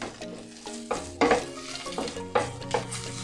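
Crushed garlic frying in a hot pan, a steady sizzle broken by several scraping stirs that swell and fade across the few seconds, close and fairly loud.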